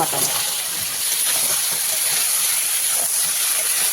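Mutton pieces hit hot oil and cooked-down masala for mutton korma, giving a steady, loud broadband sizzle that holds evenly from start to finish with no talking over it.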